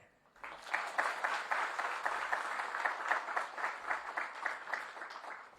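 A large audience at a felicitation ceremony for successful civil-services exam candidates breaks into sustained applause, rising quickly after a quiet start and holding steady, moderately distant and without talk over it.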